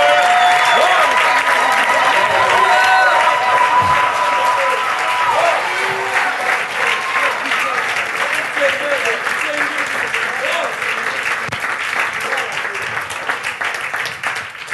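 A church congregation applauds and cheers for Jesus during a service, a dense, continuous wash of clapping and crowd voices that stays loud throughout and fades slightly toward the end.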